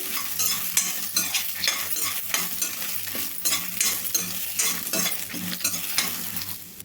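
Curry leaves fry in a hot kadai for a bitter gourd garlic chutney, crackling and spattering loudly up close while a spoon scrapes and stirs through the oil in uneven bursts.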